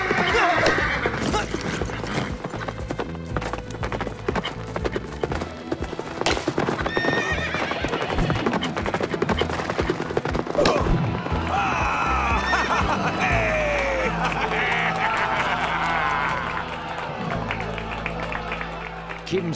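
Hooves clip-clop steadily with horses whinnying now and then, a crowd murmuring and cheering in the background while voices talk over it.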